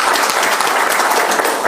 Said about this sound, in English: can we just have a round of applause for all of them?